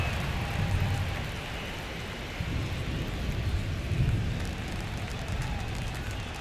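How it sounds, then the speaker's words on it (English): Heavy rain at a baseball stadium during a Braves at Phillies game, a steady broadband hiss with low rumbling swells, continuous and fairly loud with no voices. "This rain is not letting up."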